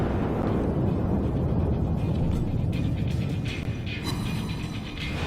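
The front guns of the battleship Arkansas fire in World of Warships, a heavy booming roar with rumbling mechanical clatter that slowly fades.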